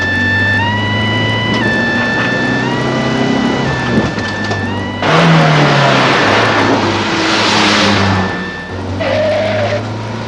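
A van's engine races and accelerates as a builder gives chase, a steady loud roar with a sudden surge midway, no voices heard.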